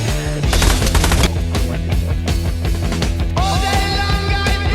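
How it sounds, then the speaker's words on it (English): Rapid video game gunfire rattles in continuous bursts of machine-gun fire, loud and dense, layered over game music with no talking. "Shoot the guy over there. Shoot him!"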